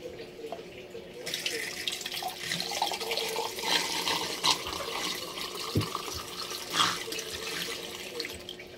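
Water runs steadily through a homemade filter, a continuous near splashing and trickling stream with brief louder gushes, with no talk over it.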